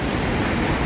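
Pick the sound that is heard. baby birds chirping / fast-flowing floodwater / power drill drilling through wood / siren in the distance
fast-flowing floodwater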